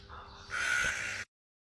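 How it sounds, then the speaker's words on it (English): A crow gives a single loud, harsh caw, near and clear, then the sound cuts off abruptly. "Clever crow."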